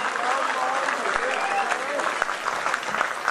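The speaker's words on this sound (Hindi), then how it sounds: "तो दोस्तों वंस मोर सुनना है तो जोरदार तालियों में स्वागत भी उसी तरह होना चाहिए।" Lively audience applause at a Hindi poetry gathering (kavi sammelan), a steady burst of dense clapping filling the hall with a few voices mixed in.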